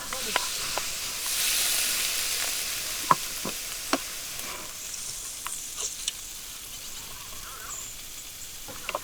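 Onions frying in a pan give off a steady sizzle and hiss, with light clicks and scrapes as a wooden spoon stirs them now and then.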